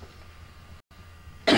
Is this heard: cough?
yes